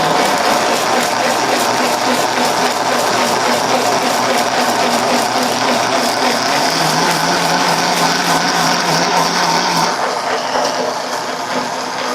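A mixer grinder churns roasted pepper, cumin and coriander with a splash of water, giving a loud, continuous motor whir with a pulsing rattle that shifts tone near the end.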